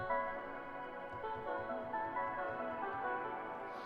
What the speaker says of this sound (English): I'm doing like a lot of effects to make it kind of reverby, kind of interesting, but it comes with its own, a little bit of shimmer.